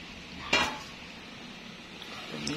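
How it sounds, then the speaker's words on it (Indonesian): Spoon stirring a pot of 1 liter of coconut milk thinned with 300 ml of water, heating toward a boil for nagasari; one sharp scrape against the pot, then faint clinks over a low simmering hiss. "Aduk-aduk sampai mendidih."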